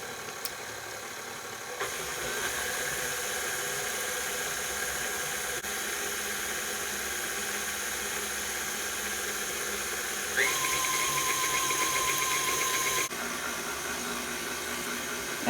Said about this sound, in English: I'm just going to begin to mix this until it's all nice and completely mixed through